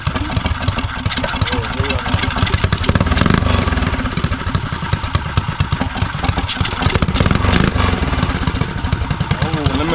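A Motovox mini bike engine fitted with a cam idles loudly and close, a steady, choppy, lopey putter that holds throughout with slight swells in pace.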